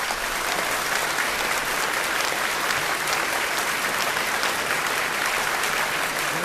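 A concert audience applauds the director of the show in a long, dense, steady burst of clapping that keeps an even loudness throughout.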